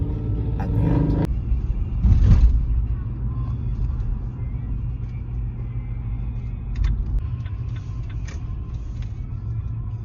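A 2021 Hyundai Ioniq Hybrid Essential on a test drive, with a steady low rumble of road and engine noise inside the cabin, a brief louder bump, and voices talking faintly over it.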